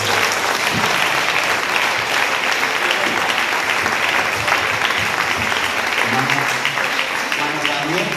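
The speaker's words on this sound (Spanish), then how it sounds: "¿Cuántos aplauden al Señor de la gloria?" Congregation applauding in church during a Spanish-language service, loud sustained clapping from many people filling the room, with voices rising beneath it toward the end.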